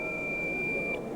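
Quiz contestant's bell being tested at a school science and maths contest: a single steady electronic tone held for about a second, moderately loud over room noise.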